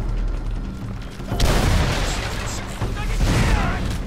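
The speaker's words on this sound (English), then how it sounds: "Grenade!" A grenade goes off in the shooter game Crysis Warhead: a loud, booming blast erupts after a moment of ambient noise, with a rumbling tail and a second surge of crackling debris close by.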